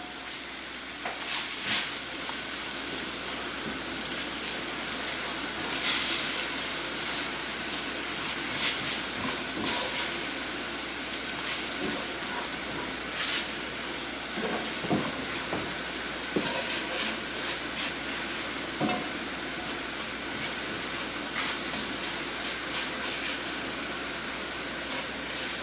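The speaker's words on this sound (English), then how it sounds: "That's a 1/4 cup regular flour. Gonna stir that in." Flour being stirred into melted butter in a pan to build a sauce for chicken or turkey à la king, a steady soft sizzle and hiss with scraping stir strokes, close and continuous, no talking.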